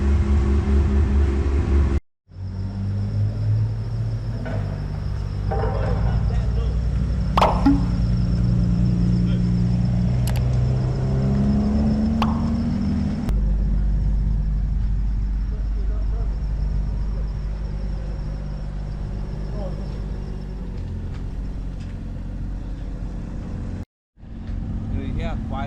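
A Mazda Eunos Cosmo engine idles with a steady, low, quiet rumble that runs nearly unbroken for the length of the clip, with voices talking over it now and then.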